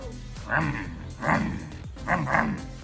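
A two-year-old rescue dog in a garage workshop where a Mazda RX-7 FC bumper is being repaired gives three short bursts of barking and yipping, close and moderately loud, with brief pauses between.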